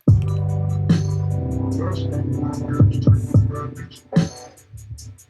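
Punchy, thick parallel-compressed kick drum hits land irregularly over a sustained, droning low 808 bass tone, with a few quicker clustered beats toward the end.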